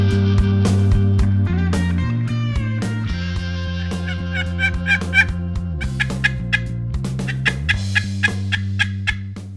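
Several wild turkeys gobble loudly and repeatedly, their calls overlapping in quick double gobbles, with sharp rhythmic bursts continuing through the stretch and no talking.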